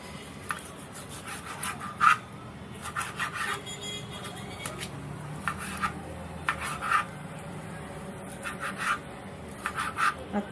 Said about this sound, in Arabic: انا معايا هنا صدر فرخه، هقطعه مكعبات عشان نعمل بيه الاكله الجميله بتاعتنا